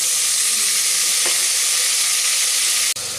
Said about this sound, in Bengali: এবারে এর মধ্যে ভিজিয়ে রাখা মটরটা দিয়ে দিলাম